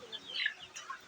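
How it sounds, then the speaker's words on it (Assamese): Local free-range chickens on a poultry farm clucking in a brief burst of soft calls, fairly close and alone. "আপোনালোকে স্ক্ৰীণত যিবোৰ মুৰ্গী দেখা পাইছে এইবোৰ অৰিজিনেল লোকেল মুৰ্গী হয়"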